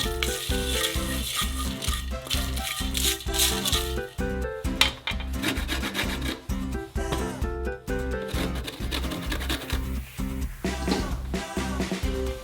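Spices sizzle and crackle in a hot pan, with repeated metallic scrapes and clinks of stirring throughout.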